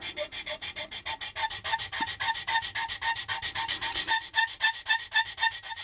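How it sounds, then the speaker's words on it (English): Sandpaper is rubbed over a plastic part from an AMT U.S.S. Enterprise model kit. Rapid, even back-and-forth scratchy strokes sound close up, about six per second, with no talk. "And just sand this down a bit."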